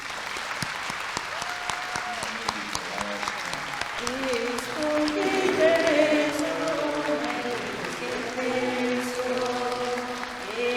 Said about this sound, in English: thank her again with a round of applause as she has served our nation so well